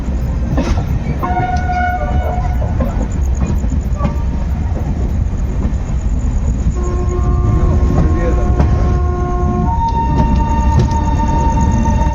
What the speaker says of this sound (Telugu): చూడొచ్చు బండి ప్లాట్ఫారంలోకి అయితే వెళ్తుంది, క్రాస్ అయ్యింది బండి కాస్త